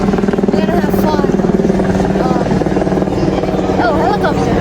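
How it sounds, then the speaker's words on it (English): A helicopter passing over a busy amusement park, its steady rapid rotor chop loud and continuous, with crowd noise and voices layered over it. "Oh, helicopter! Helicopter! Helicopter!"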